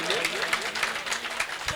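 Scattered audience clapping at a mushaira in Muradnagar, Ghaziabad, mixes with a speaking voice and crowd murmur, moderately loud and somewhat distant.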